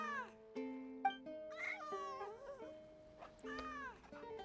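Several drawn-out cat meows with rising and falling pitch sound in Genshin Impact, clear and fairly close in a quiet scene, spaced across the stretch with short gaps.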